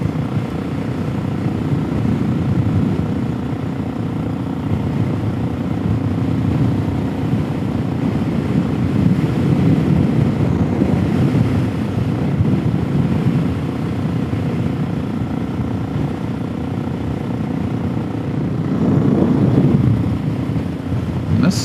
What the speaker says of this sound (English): This bike, this engine's running clean